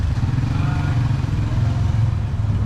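A motorcycle engine rumbles loudly and steadily nearby at a Ramadan bazaar in Pandan Jaya, Malaysia, a continuous low drone without pause.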